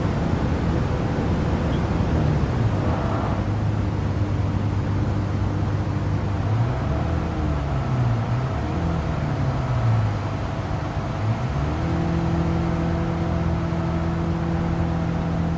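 A race car in Gran Turismo 7 drones steadily on its final lap, engine pitch sliding up and down through shifts and corners, with a constant rushing background and no talk.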